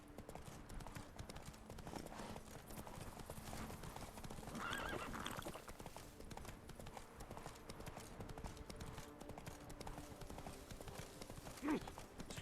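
Roach, Geralt's horse in The Witcher 3, gallops with rhythmic clip-clopping hooves and a whinny partway through, a steady game sound with no talk.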